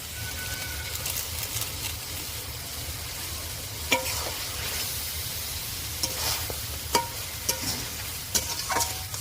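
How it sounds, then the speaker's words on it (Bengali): A spoon stirs garam masala into a simmering jackfruit seed curry, making a soft continuous sizzle with scattered clinks and scrapes against the pan that grow sharper and more frequent toward the end. "এবার এর মধ্যে গরম মশলা ছড়িয়ে লাগিয়ে নেব"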